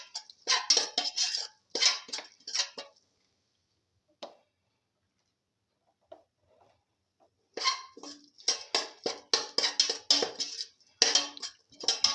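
A utensil scrapes and clinks against a pan while chicken pilaf with green chili paste is stirred and sautéed. The sound comes in bursts of rapid, close scraping with a quiet pause in the middle.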